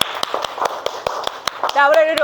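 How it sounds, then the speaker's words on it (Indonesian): Children in a sixth-grade classroom clapping for a student group, a series of sharp evenly spaced claps, close and fairly loud, followed by a voice speaking over the end. "Tepuk tangan untuk kelompok"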